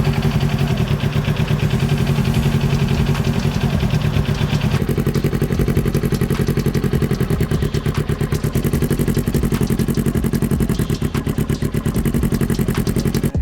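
Motorcycle engine runs loud and close with a steady throbbing rumble during a clutch-release start on an uphill slope, the pitch shifting slightly partway through.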